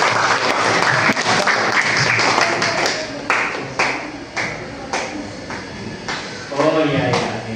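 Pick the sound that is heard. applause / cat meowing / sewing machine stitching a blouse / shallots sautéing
applause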